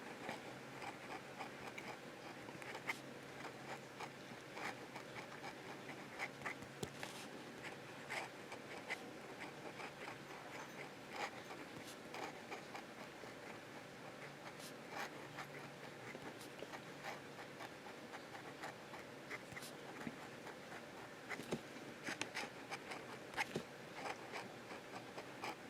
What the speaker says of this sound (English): Try some reverse writing.